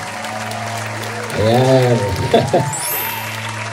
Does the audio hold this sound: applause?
yes